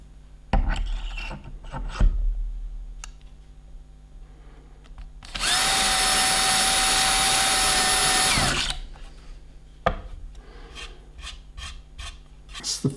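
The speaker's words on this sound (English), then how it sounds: "I've got it on driver mode rather than drill mode because I want to take it slowly." A cordless drill set to driver mode runs once for about three seconds into flat-pack furniture, a steady loud whirring burst close by, with sparse knocks and handling noises before and after.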